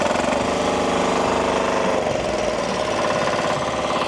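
A rotary tiller's small engine runs loud and close with a rapid, rattling, jackhammer-like chug that stays steady as it is revved.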